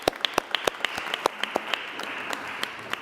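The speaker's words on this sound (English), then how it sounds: "big round of applause to all our student presentation tonight." An audience at a school committee meeting applauds student representatives, a crowd clapping with distinct claps standing out near the front, steady and moderately loud before thinning toward the end.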